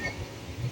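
The Panchaganga Express (train 16595) accelerates hard on a night run, giving a steady, close low rumble that swells slightly toward the end of the short burst.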